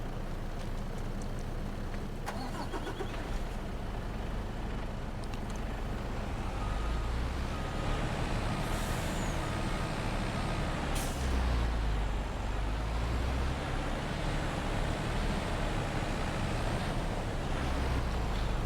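A lorry in Farming Simulator 25 rumbles steadily with a deep engine drone that holds throughout, joined by a sharp air-brake hiss partway through and lighter clanks over the low, continuous running noise.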